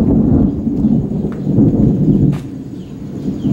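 A rumbling thunderstorm at the start of the rainy season, low broad rolls of thunder swelling and fading with steady background noise, a louder stretch early and a quieter tail.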